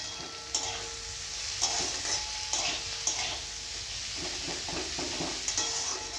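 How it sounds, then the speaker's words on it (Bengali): Capsicum, onion, green chili and ginger fry in hot oil in a pan, giving a steady sizzle while a spatula scrapes and stirs with repeated clinks and scrapes against the metal. "ক্যাপসিকামটা ভাজা হয়ে গেছে"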